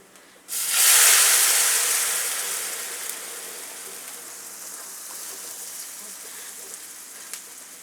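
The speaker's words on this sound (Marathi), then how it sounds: "आता त्यात आपल्याला दूध टाकून घ्यायचं आहे" Milk poured into a hot pan of roasted rice and coconut for kheer gives a sudden loud sizzling hiss that slowly fades into a softer, steady bubbling sizzle.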